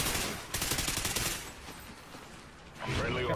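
Gunfire from the shooter game Call of Duty: Ghosts on the Free Fall map, with a dense, loud burst of rapid shots at the start, a quieter stretch, then another sharp volley near the end.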